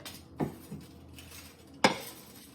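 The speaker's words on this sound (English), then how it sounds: "try and scrape the pan as much as you can" Metal utensil scraping a cooking pan in a home kitchen, a few faint scrapes and clinks at irregular intervals with one sharper knock near the end, quiet and close with no talk.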